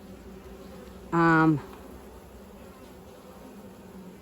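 Honeybees hum around a hive in an apiary during feeding and winter preparation, a low, continuous buzz in the background, briefly interrupted by a short spoken word close by.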